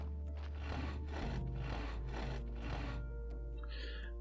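Wood being sawn at a saw block in the Graveyard Keeper video game: about four rhythmic rasping strokes over a low steady hum, ending with a short bright chime.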